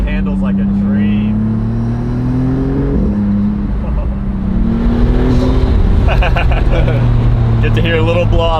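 A Maserati convertible sports car drives with its top down, its engine droning loud and steady with rising and falling pitch as it revs, while people talk over it throughout.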